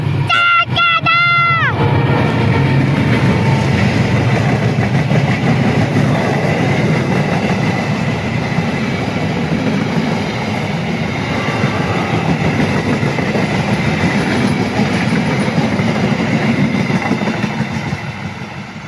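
A local passenger train rumbles past close by, loud and steady with rattling wheels throughout, a brief horn or bell tone at the start, and voices faintly underneath.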